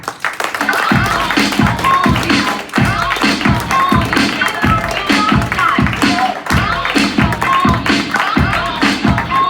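Open-mic comedy club audience applauds the next comedian, a dense, steady burst of many hands clapping close by for the whole stretch.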